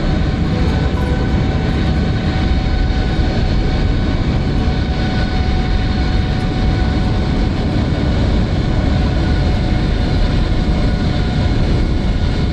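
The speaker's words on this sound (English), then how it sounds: "Beautiful touchdown in the beautiful Garuda Indonesia Boeing 777-300ER." A Garuda Indonesia Boeing 777-300ER touches down in Microsoft Flight Simulator, giving a loud, steady roar of engines and rolling rumble across the whole stretch, with a faint tonal whine held over it.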